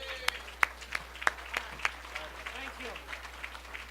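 An audience applauding for a club president at a City Club event, with sparse, distinct claps rather than a dense roar, several sharp hits standing out while a voice murmurs faintly underneath.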